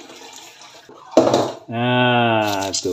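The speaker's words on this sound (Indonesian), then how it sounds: "tujuan penyiram air panas ini biar lumut-lumutnya hancur" Hot water is poured into a refrigerator's drain hole to break up moss, making a brief splashing rush followed by a steady sustained pour, with someone speaking briefly.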